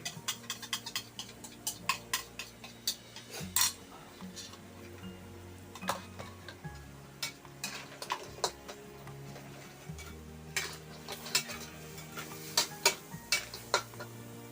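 Egg being stir-fried with crab and celery in a pan, quiet frying with frequent sharp clicks and clanks of a utensil against the pan in an irregular rhythm, close up.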